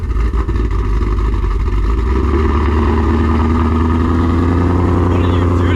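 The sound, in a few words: loud car engine starting, running on E85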